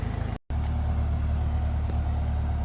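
A 1957 Ferguson 35 TVO tractor with a vertical exhaust runs at a steady low rumble that stays close and constant. A brief dropout breaks the sound early on.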